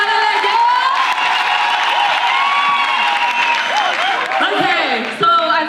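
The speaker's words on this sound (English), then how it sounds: "Everybody a round of applause for Banela." A crowd at a Youth Day event claps and cheers loudly, with whoops and shouts rising above continuous applause, close and energetic from start to finish.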